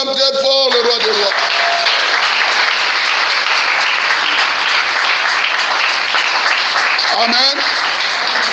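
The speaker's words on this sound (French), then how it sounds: "On acclame très fort le roi des rois." Loud, sustained applause from a church congregation acclaiming during a French-language service, dense clapping running nearly unbroken throughout, with brief voices or cheers rising near the start and again near the end.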